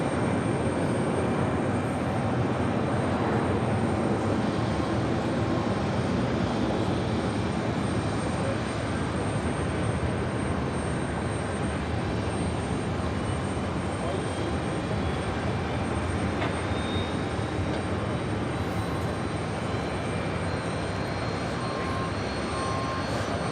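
A Delta Airlines A330-200 arriving at JFK from Frankfurt roars in a broad, sustained jet rumble that holds loud and steady throughout, with no clear break.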